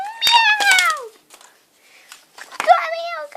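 A voice imitates a cat meowing, giving two drawn-out, rising-and-falling meows separated by a short pause, close and fairly loud.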